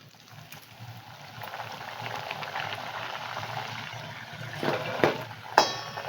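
Spinach puris fry in hot oil with a steady bubbling hiss that swells gradually, ending with a couple of sharp clicks near the end.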